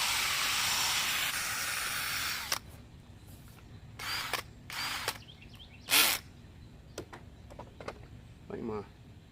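A handheld drill spins a sanding attachment against a car headlight during restoration, giving a steady whirring hiss for a couple of seconds, then several shorter bursts with quiet gaps between them.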